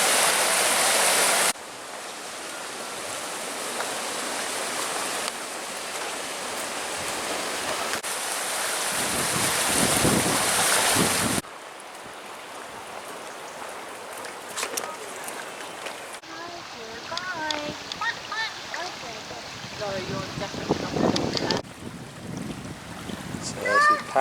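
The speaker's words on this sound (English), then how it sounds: "So that would be the mill race." Water rushing steadily through the race of an old 1885 mill, now converted to flats, beside a river; a broad continuous wash that shifts in loudness, with light wind and some talk in places.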